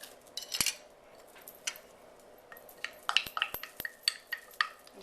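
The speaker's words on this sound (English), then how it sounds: "Now I'm going to pour in my onions." Chopped onions are tipped from a container into a bowl of meatball mixture, a scatter of soft light clinks and scrapes of utensil on dish against a quiet kitchen background, with no talk.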